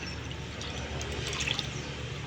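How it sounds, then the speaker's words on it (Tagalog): Water is poured into a cooking pot outdoors on a basketball court, making a steady pouring rush with a few brighter splashy spots near the middle. "Siyempre ilalagay ko pa yung tubig kasi konti lang nilalagay ko kaya para dagdagan pa natin."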